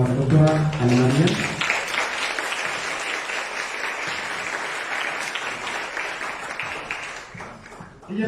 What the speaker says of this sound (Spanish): Recibamos con un fuerte aplauso a la doctora Ana María